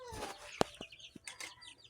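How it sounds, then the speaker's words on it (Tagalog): Chickens cluck close by in short, choppy bursts, one sharp squawk cutting through, with no one speaking. "Dami namin manok guys."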